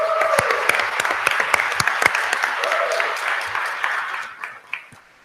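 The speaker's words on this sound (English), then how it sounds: "So please give her a round of applause as well." An audience at a school district board meeting applauds an award recipient honored for special education services, a dense, fairly loud round of clapping that fades out toward the end.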